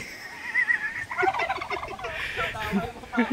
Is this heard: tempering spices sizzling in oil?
no